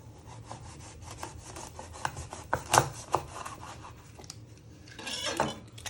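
A knife slices through the end of a vegetable on a cutting board, giving several rasping cuts with sharper bursts near the middle and again toward the end, close and fairly quiet.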